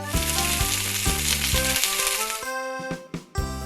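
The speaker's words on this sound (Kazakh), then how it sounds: "Бауырсақ." Baursak dough fries in hot oil with a steady, bright sizzle that runs throughout, set under rhythmic background music with no voices.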